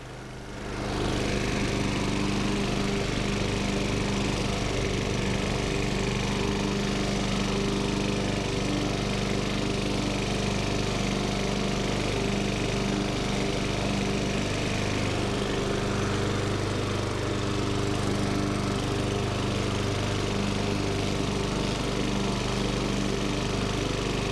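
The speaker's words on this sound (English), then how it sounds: "listen to that sweet purring of my lawnmower" A lawn mower runs continuously close by, a steady loud engine drone with a rough rattling texture throughout.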